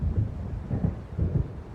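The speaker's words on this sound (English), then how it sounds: "It seems there's a storm coming." Low rolling thunder from an approaching storm in the video game Alan Wake, a deep rumble that swells and fades over and over and sits close and heavy with no other sound.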